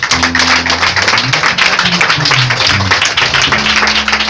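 Church congregation applauding and cheering for Jesus during a morning service, loud dense clapping and crowd noise filling the space throughout, with music tones running underneath.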